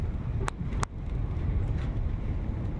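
Strong wind buffeting a microphone outdoors at a market stall, a steady low roaring rumble throughout with two brief sharp knocks early on.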